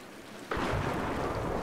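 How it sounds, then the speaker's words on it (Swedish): Thunder in the Tomb Raider video game breaks in suddenly as a loud, broad rumbling crash over steady falling rain and keeps rolling without fading. "Den här förbannade åskan."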